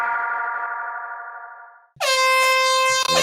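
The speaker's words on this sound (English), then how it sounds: "we got one air horn out" An air horn sound effect played during a podcast, starting as a fading tonal blast and then cutting into a second, much louder and brighter sustained blare that ends abruptly.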